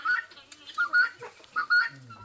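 Backyard chickens on a small Brazilian farm cluck in short, repeated bursts, close and moderately loud, with brief pauses between calls.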